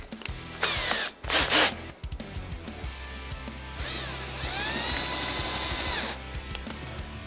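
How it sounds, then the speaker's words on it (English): A power drill with a 1/4 inch bit bores anchor holes into an older racing helmet for a HANS device, in loud whirring bursts separated by short pauses, then a long steady whine that slows and stops, with faint ratcheting clicks. "What goes well with that is a 1/4 inch drill bit, so that's what we're going to drill this with."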